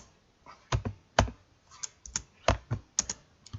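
Typing on a computer keyboard while entering a game-menu name in a PC front-end setup, irregular bursts of sharp key clicks close to the mic, with several clusters of quick presses and short pauses between them.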